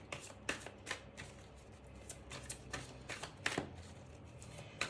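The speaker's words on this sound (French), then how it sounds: "Je vais juste prendre une carte là pour ce manque." Tarot cards are shuffled and drawn in quick, soft riffles and flicks, a string of close, brisk papery bursts in a quiet room with no speech.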